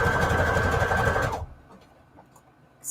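Sewing machine stitching junk journal pages made from a book, a loud, fast, steady mechanical whir for about a second and a half, then stopping, with a brief restart at the end.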